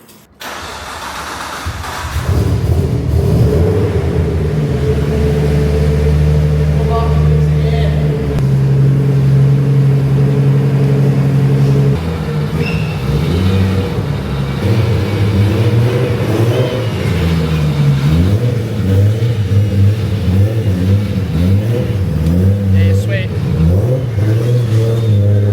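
A car's engine cranks and catches after a short pause, then idles loudly up close with several revving pulses rising and falling, while a voice speaks excitedly nearby.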